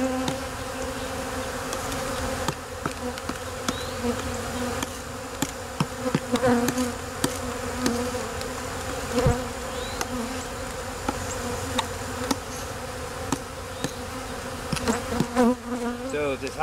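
Dense, continuous buzzing of many bees in a hive, steady and close with occasional individual bees droning louder past the microphone.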